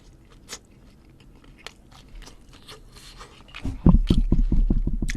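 Boneless BHC fried chicken dipped in sauce and eaten, with close, crisp crunching bites and chewing that grow louder toward the end after quieter mouth sounds.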